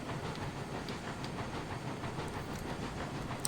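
Mogul steam locomotive running in Railroads Online, a steady hissing chuff and rail rumble with faint periodic clicks, moderately loud and alone.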